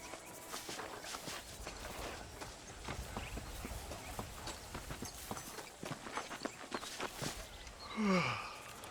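Horse hooves walk in a steady clip-clop rhythm through Red Dead Redemption, close and clear over a low ambient bed, continuing for several seconds before a brief rising whoosh near the end.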